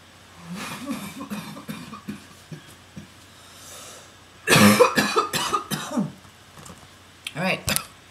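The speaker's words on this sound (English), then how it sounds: "usually I don't cough like that" Several harsh coughs from one person in a room, a quieter throat-clearing cluster early on, then a loud burst of repeated coughs midway and another sharp cough near the end, with talk between them.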